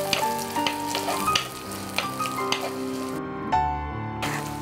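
Ginger and shallots sizzle steadily in hot coconut oil for a mackerel-and-tapioca curry, with repeated spoon or spatula clinks and a brief dip near the end before the frying resumes, close and continuous with no talk.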